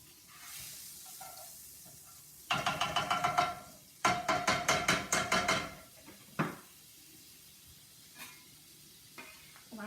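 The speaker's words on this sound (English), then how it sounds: "I am going to put a little bit more butter in the pan" Butter sizzles and spits in a frying pan while cooking chicken with mustard sauce, with bursts of stirring and scraping. Two loud rhythmic clusters of clatter and sizzle alternate with quieter gaps, then a single sharp knock and faint later taps.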